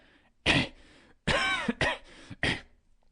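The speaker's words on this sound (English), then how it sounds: "How long have you had that cough?" A man coughs in several harsh, separate bursts, with short pauses between them, loud and close, in a quiet room.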